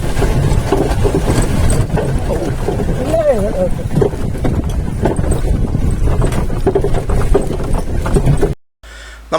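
Bullock hooves clip-clop steadily up close over the rumble of a rolling cart, with people talking throughout.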